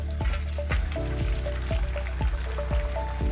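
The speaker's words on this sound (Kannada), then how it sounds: "ಇದನ್ನೀಗ ನೀರು ಬಸಿಬೇಕು" Water draining from half-cooked rice for chicken pot biryani, a continuous loud pouring and splashing with regular dripping plops falling into liquid, close and alone.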